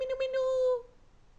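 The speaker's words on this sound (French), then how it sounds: "C'est là que j'ai un chat qui arrive." A cat arriving in a residential neighbourhood gives a single clear, drawn-out meow, close and fairly quiet, ending abruptly.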